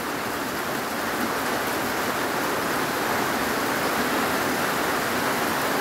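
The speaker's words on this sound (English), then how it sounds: "So here comes the downpour." A heavy downpour hisses steadily and evenly, a dense wash of rain with no voices and no break in its intensity.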